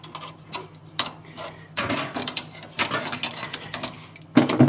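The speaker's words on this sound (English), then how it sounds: "I'll get a spanner, and I'm going to undo it" A spanner works at a fitting on an aging Sapphire boiler, making irregular metallic clicks and ratcheting clanks in short clusters. The sound is close-up with no speech.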